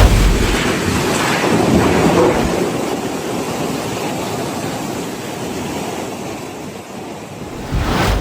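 Severe storm in China with strong winds and flooding: a loud, continuous roar of wind and churning water fills the scene, with no voices.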